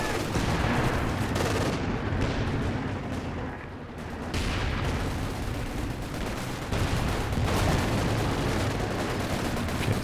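Grenade blast amid continuous battle noise in Company of Heroes 2, a 2v2 World War II strategy match with Werfer rocket barrages and a Panther tank nearby; dense overlapping gunfire and booms fill the scene with a brief lull midway.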